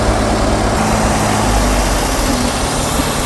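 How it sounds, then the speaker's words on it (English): A 1962 Jaguar engine that sat for fifteen years, revving high and loud with a stuck accelerator, a dense sustained roar that holds steady at high speed throughout, close and alone. "Accelerator is stuck. Ah. That's revving so high."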